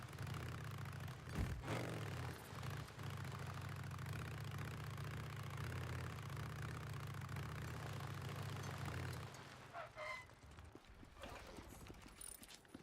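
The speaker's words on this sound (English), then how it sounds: "My bike's engine is fucking loud." A motorcycle idles in the video game Days Gone, a faint, steady low chug that continues alone before cutting off near the end, leaving quieter mechanical sounds.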